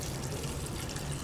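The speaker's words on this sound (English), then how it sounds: "And then we want to add 7 cups of water." Water pours steadily into a soup pot of potatoes and leeks, a brief, fairly quiet, continuous splashing gurgle.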